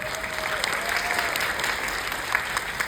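A festival audience at a film screening stage greeting keeps up a steady wash of clapping, full and even throughout with a few sharper claps standing out.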